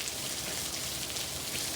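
Pouring rain drumming on a car with its windows down, a dense, steady hiss filling the whole stretch with no voices.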